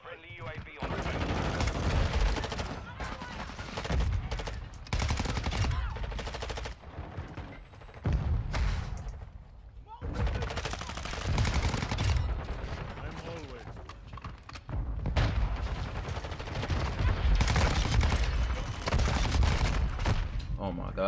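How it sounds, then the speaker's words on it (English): Heavy bursts of automatic gunfire in Call of Duty: Modern Warfare II, loud clustered volleys broken by short lulls across about twenty seconds, with game voice chatter mixed in. "this guy just keep shooting"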